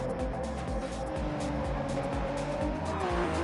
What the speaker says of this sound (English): the leading hypercars are about to slot out of the pits